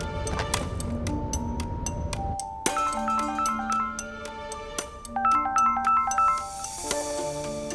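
A phone ringtone chimes in a bright, repeating melodic pattern of electronic tones, fairly close and clear, with no voices over it.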